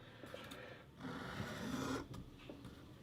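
A knife blade is drawn across a fine sharpening stone in faint, quiet rasping strokes, several soft scrapes repeating with short gaps between them.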